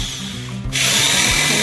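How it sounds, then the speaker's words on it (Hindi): An electric drill bores holes into the corners of a piece of scrap wood for a wall shelf, a quieter lead-in giving way at about 0.7 s to a loud, steady, close high-pitched whir that runs to the end with no one talking. "मैंने चारों कोनों पे होल करवाया है ड्रिल मशीन की सहायता से"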